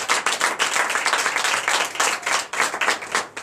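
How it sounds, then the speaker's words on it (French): A church congregation at a Sunday service in Benin claps in a lively rhythmic pattern, loud, close pulses of hand claps repeating steadily with cheering mixed in. "Donnez de vive acclamation à notre Seigneur"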